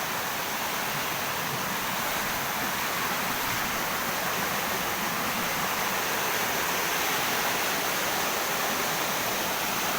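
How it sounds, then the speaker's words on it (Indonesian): A swollen river in rainy season rushes loudly and continuously, a dense broadband roar of flowing water that fills the whole stretch without a break. "Air sungainya lagi besar ya, karena lagi musim penghujan."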